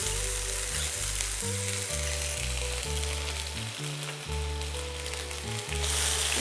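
Plain onion paste frying in hot oil until reddish, a steady hiss of sizzling heard continuously beneath louder tonal background music.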